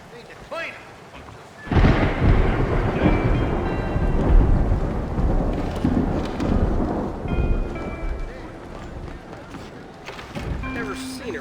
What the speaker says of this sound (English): Never seen it rain so much.